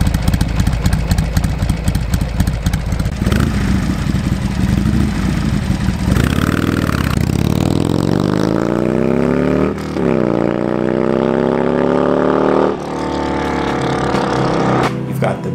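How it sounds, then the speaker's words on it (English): A 2002 Harley-Davidson 883R Sportster fitted with a factory 2-into-1 Screaming Eagle Pro exhaust rumbles loudly up close, idling with a lumpy beat, then revving up and dropping back several times in rising surges. "It comes with a custom exhaust from the factory, a 2-in-1 Screaming Eagle Pro exhaust."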